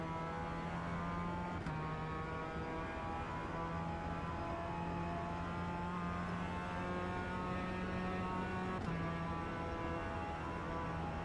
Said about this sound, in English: This is a little Mazda MX-5, the Miata to the Americans.